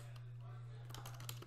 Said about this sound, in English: Okay, now you can start typing.